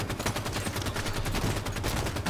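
Gunfire in the shooter game Halo 5: Guardians, where sniper rifles are in play, heard as a loud, continuous burst of close shots with no voices over it.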